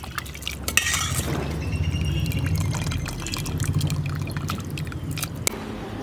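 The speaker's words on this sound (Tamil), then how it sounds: "இதில் உள்ள தூசி எல்லாம் போகிறதுக்காக தான் நம்ம இந்த மாதிரி நல்லா கழுவுறோம்." Dried salted meat is washed in hot water in a pot with a ladle, giving continuous close sloshing, stirring and splashing with a few light clinks.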